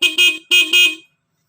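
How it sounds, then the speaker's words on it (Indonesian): Two short bursts of a bright, buzzy Yamaha Vixion motorcycle horn, each a quick double toot, loud and close, then silence. "klakson, tit, tit."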